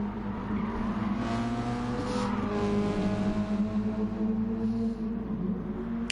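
Toyota SFR Racing Concept race car in a racing game, its engine holding a loud, steady buzzing drone with layered harmonics throughout, close and continuous without speech.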